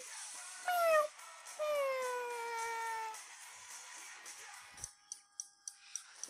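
A cat meows twice in drawn-out, falling cries close by, followed by a few soft clicks or taps toward the end.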